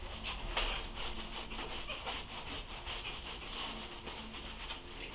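A microfiber towel is rubbed over a waxed surface for a final polish, giving steady, close, soft swishing strokes in a continuous rhythm with no talk.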